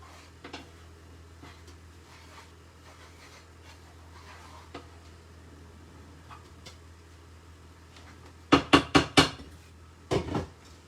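Spicy fried rice noodles being tossed in a pan, heard as a short burst of rapid metallic clanks and scrapes near the end, with another brief clatter after a quieter stretch of low kitchen background.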